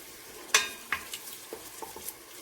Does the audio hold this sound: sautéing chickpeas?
yes